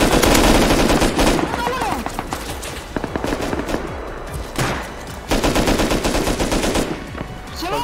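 Rapid automatic gunfire and single shots from a firefight in the survival game Rust crackle in loud, close bursts separated by short pauses, with a player's voice talking in between.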